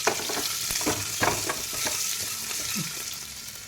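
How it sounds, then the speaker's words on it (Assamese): Raisins and cherries frying in a pan for pineapple pulao, a steady close sizzle with faint stirring scrapes and clinks running throughout. "অলপ সময় ফ্ৰাই কৰি ল'ম। তাৰপিছত ইয়াতে কিচমিচ দি দিম।"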